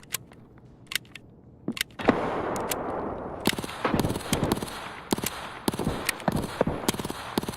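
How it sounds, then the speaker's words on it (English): Gunfire and explosions in a combat video game, with sharp isolated shots at first, then a loud burst and dense, continuous rapid fire with repeated cracks close by. "Grenade out."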